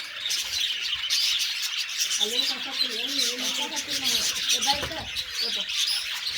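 Birds chirp and tweet continuously in the background, a dense, bright chatter of small calls. Someone talks over them for most of the stretch.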